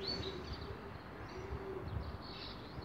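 Pigeons coo faintly at a racing pigeon loft in Mallorca, with soft low calls and a few light chirps over a quiet, hissy outdoor background.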